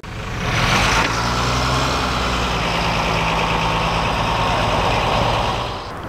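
A skoolie bus engine runs loud and close as the bus gets on the road, a steady low rumbling drone with a rising roar at the start and no talking.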